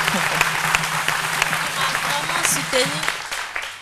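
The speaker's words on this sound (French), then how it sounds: "On applaudit" Studio audience applause on a midday TV show, sustained clapping with a voice speaking faintly over it and a low hum underneath.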